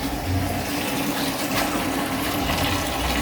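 Water pouring into a tank during a kitchen build in an African village, a loud and continuous rushing splash that holds steady from start to finish, with no voices.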